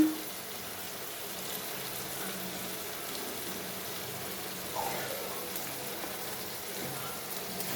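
A steady, soft sizzle of turmeric powder and salt frying in a pan continues throughout, with faint scraping now and then.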